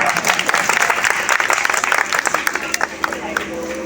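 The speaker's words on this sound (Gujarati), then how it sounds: "આપણે શંકરભાઈ માટે તાળીઓ પાડીએ." An audience at a Gayatri Shaktipeeth rath yatra gathering in Palanpur applauds, a burst of dense hand clapping that thins toward the end, with a voice speaking over it.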